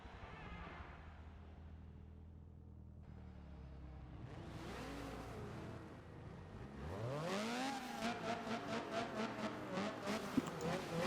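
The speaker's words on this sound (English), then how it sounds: "Listen to that VTEC, yo." A Honda CRX with a VTEC engine revs hard in a Forza 7 race at Mugello, the pitch climbing from a low idle to a loud, rising, buzzing wail with rapid pulsing, up close and alone.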